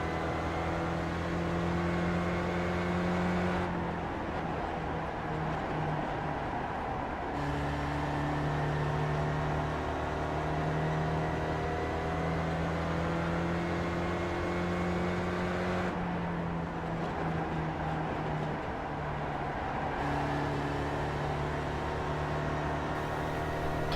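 Onboard a Spec Ford race car lapping a circuit, the engine drones steadily with rising and falling pitch as it shifts through gears, loud and continuous with no voices.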